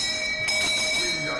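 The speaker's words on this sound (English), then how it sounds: "Freddy rings the beer bell and actually gets another beer" A beer bell rung in a house during a reality livestream, its bright ringing tone sustained over background chatter and room noise.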